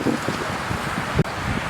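Steady wind blows outdoors during a brush guard installation on a 2001-2007 Ford Escape, a constant broadband rush with low buffeting against the microphone and a brief dip near the end, with no speech.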